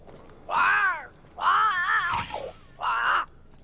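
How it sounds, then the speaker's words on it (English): A crow in the video game Banishers: Ghosts of New Eden gives three drawn-out, hoarse cawing calls with brief gaps between them, fairly loud and alone. "It's Ceridian, by way of the invisible, speaking through the crow."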